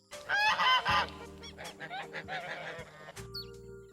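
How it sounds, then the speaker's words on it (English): A goose honks repeatedly in loud, harsh bursts, the calls clustered at first and then continuing more softly over a low background hum. "Along comes Mother Goose."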